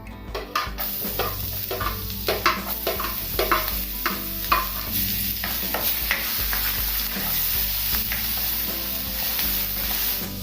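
Ginger and garlic fry in hot oil with dried chilies, making a steady, loud sizzle while a spatula stirs and scrapes in repeated strokes throughout.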